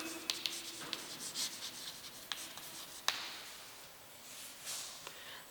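A pen or chalk writing on a board during a commerce lesson: faint, quick scratchy strokes in short irregular bursts, close but quiet, with no one talking.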